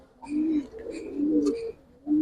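A pigeon, a Giribaz or coloring breed, coos close by in soft throaty rolls, three short phrases with brief pauses between them and no voices over it.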